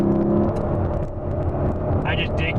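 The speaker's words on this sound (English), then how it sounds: "I just dig driving this LC500." Lexus LC500 engine droning from inside the car while driving, a steady loud hum with a slight rise toward the end.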